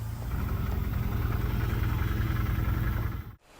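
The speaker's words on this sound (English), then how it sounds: "basically I'm just letting my machine do the work here with its engine braking" An ATV engine braking on a steep downhill trail, a steady loud low rumble with fine vibration that holds for about three seconds and then cuts off abruptly.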